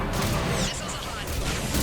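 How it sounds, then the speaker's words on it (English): Missiles launch in a Mass Effect 3 battle, a loud, dense burst of blasts and whooshing rush lasting under two seconds, with voices speaking over it. "Missiles away."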